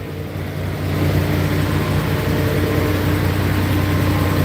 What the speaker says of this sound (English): It's my truck all loud like this.